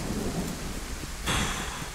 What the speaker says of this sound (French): Allez, réapparition, encore sous la pluie.